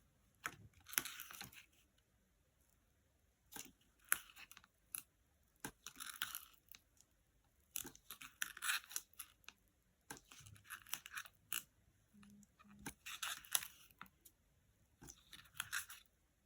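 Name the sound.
scissors snipping foam tape for a craft kit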